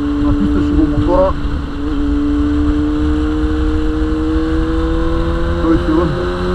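A motorcycle engine drones on a slippery road near Chepelare, with two quick revs that rise and fall in pitch against a steady running tone, under a voice.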